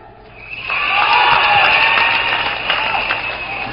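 A studio audience at a televised Chinese pop singer's fan-meeting show breaks into applause and cheering, swelling quickly to a loud, dense roar before easing slightly toward the end.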